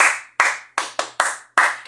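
An audience claps in a string of six sharp, ringing beats with uneven gaps. Each clap decays quickly into a reverberant space, and no voices are heard.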